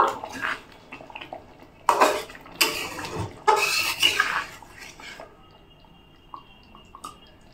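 Crushed chui jhal is beaten into eggs in a bowl for an egg curry, giving several bursts of close, clattering utensil-on-bowl mixing, then a quieter stretch with faint clinks.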